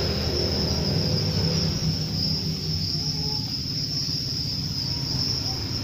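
Crickets in a cricket-rearing pen chirp in a dense, continuous high trill, close and fairly loud, with a low background hum and no voices.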